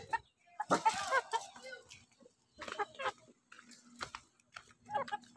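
Native chickens give several short bursts of clucking and squawking, close by, with quiet gaps between them and people talking in the background.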